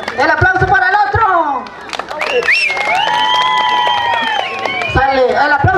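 Crowd applause at a jaripeo, a Mexican rodeo event, with scattered clapping running under a loud announcer's voice on a PA.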